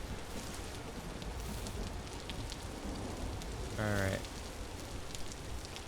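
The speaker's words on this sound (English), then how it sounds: "Hopefully we'll get to a place where it stops raining for once in this game." Rain falls steadily in a video game as a soft, even hiss with no breaks, while someone briefly speaks over it partway through.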